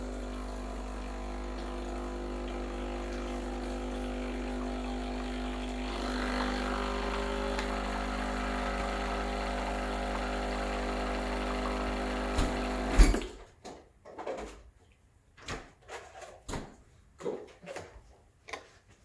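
Breville Barista Express BES870 espresso machine running a flush cycle, a steady pump hum with rattling vibration for about thirteen seconds, then it stops and is followed by scattered clicks and knocks.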